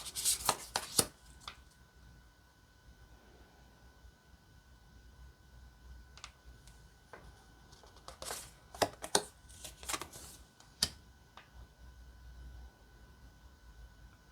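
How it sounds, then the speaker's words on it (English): An affirmation card deck being shuffled by hand, with quiet soft rustling punctuated by sharp irregular riffling snaps and taps, close and faint, with no talking. "And then we'll shuffle them and we'll pull a card and read the back."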